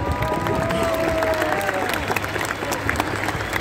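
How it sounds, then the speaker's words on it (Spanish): An audience at a Mar del Plata 150th anniversary event claps loudly and continuously, with faint cheering and a voice or two rising over the sustained applause. "Otro aplauso bien fuerte de todos nosotros."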